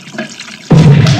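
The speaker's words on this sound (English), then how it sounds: "Charlie, you take the nitric acid and the glycerine, and I'll take my own special mixture." Liquid poured in a 1971 film scene mixing nitric acid and glycerine, a sudden splashing gush that starts after a quiet moment and runs loud and steady to the end.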